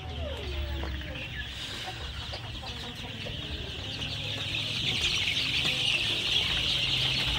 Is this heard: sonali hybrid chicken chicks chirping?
yes